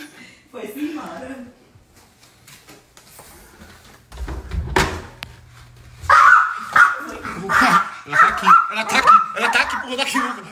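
A dog barks several times, near and fairly loud, in a home at night, with people talking around it and a door or cupboard knocking in the background.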